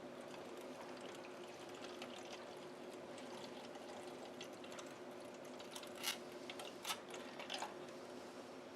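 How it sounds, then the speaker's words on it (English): Liquid dye poured onto ice over fabric for an ice and liquid tie-dye, a faint, steady trickle with a few brief splashes and drips near the end. "I'm just going to add the liquid for the base color. And this is 6 ounces that I'm pouring in"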